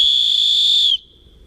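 A small survival kit whistle is blown once, a loud, shrill, steady tone held close for about a second before it stops abruptly.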